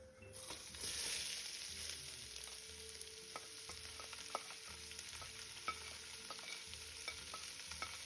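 Sliced large onions and whole spices for chicken biryani fry and sizzle in a pot while being stirred, a quiet steady hiss with a brief louder surge early on and occasional scraping clicks.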